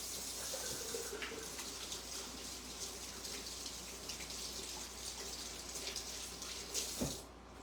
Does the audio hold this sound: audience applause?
no